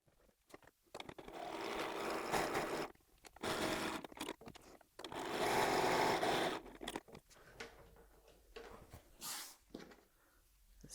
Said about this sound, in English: back to the machine to sew down on that side and that side,